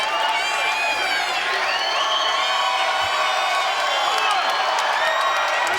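A sold-out arena crowd at a bare-knuckle heavyweight championship bout in Mississippi roars and whoops in support of a home-state fighter, a loud sustained wall of cheering with scattered shouts throughout.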